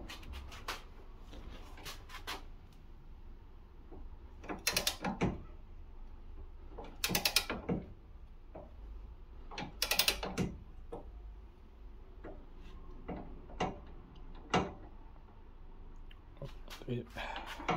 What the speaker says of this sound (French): Donc ici on va serrer à la clé dynamométrique à 60 Nm.